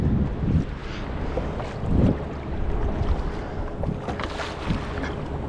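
A kayak launching from the shore into choppy water, with sloshing and splashing bursts under steady wind buffeting the microphone; no voices.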